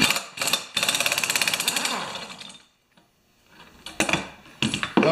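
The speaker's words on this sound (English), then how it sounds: "And this just spins off the clutch." A power tool spins the clutch off a Merry Tiller engine in loud, rapid rattling bursts, a long run and then shorter spurts separated by a quiet gap, close to the listener.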